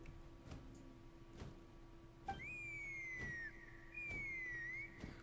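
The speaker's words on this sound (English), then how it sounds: "That sounded like a whistle." A drawn-out whistle in the video game Genshin Impact sounds twice, each a sustained slightly falling tone, over soft ticking game ambience and faint background music, clear and alone without talk.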